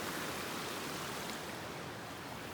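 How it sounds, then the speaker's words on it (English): Utopia Creek on a Jasper National Park trail, a steady, even rush of flowing water with no pauses, soft and continuous at a moderate distance. "That's Utopia Creek."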